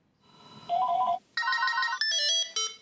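A telephone ringtone chirps through a rising series of electronic tones, starting faint and then ringing loudly and steadily for a few seconds, with no talking.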